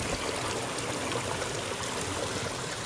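Shallow French river flowing over stones, a steady close rushing and trickling with no pauses and no voices.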